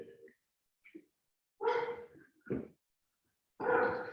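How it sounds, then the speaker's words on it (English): A dog running loose inside a school building barks loudly and close by in a few short bursts. There are brief quiet gaps and small yips between the barks. "there's a dog loose in the school right now"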